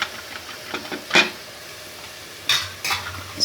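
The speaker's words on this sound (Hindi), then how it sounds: "इसको भी हम अब अच्छे तरीके से मिक्स कर लेते हैं" A spoon stirs tomatoes into a chicken macaroni mixture in a pan, a few scattered scrapes and clinks over a faint sizzle, quiet and intermittent.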